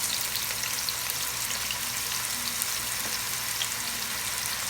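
Onions and peppers frying in a pan for spicy spaghetti, a steady close hiss and crackle of sizzling oil with no pauses or voices.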